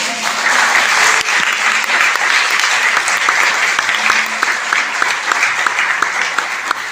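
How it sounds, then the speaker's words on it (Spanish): A congregation applauding at a Torah study gathering on parashah Vayikra, loud sustained clapping from many hands that stays even and continuous from start to finish with little else heard. "Pero un fuerte aplauso al Eterno."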